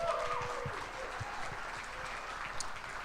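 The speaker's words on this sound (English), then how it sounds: "How about a round of applause for him?" A studio audience applauds for Packers tight end Josiah Deguara, a steady wash of clapping with a brief voice over it at the start, moderately quiet and even throughout.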